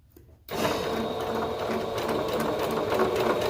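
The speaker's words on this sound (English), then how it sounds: "I don't recommend sewing over your pins, but I'm gonna do it." A domestic sewing machine starts after a brief quiet moment, then runs with a steady mechanical whir and rapid needle clatter as it stitches fabric for a ruffle sleeve leotard, sewing straight over pins. It sounds close, with no talk.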